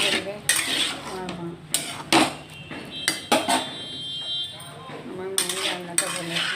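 Lentil paste with ash gourd and potatoes being stirred in a pan, sharp irregular clinks and scrapes of a utensil against metal over a faint cooking hiss, close and without speech.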